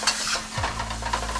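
Noodles and sauce for chicken pad thai tossed in a 16-inch wok, close sizzling under gentle scraping and stirring strokes, with a brief metallic clink near the start.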